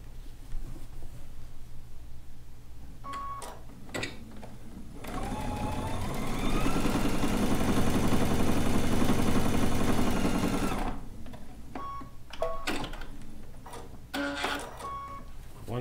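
A sewing machine runs a continuous stretch stitching a 1 centimeter side seam on a bucket hat, preceded and followed by short clicks and handling noises of fabric and machine.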